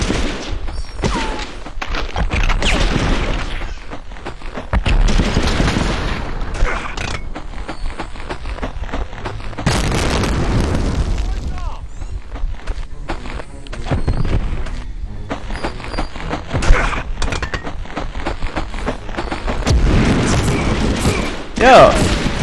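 Gunfire and explosions in the PlayStation game Medal of Honor, Rail Canyon mission, with repeated bursts of shots and booming thuds throughout, loud and close, with bits of a player's voice in places.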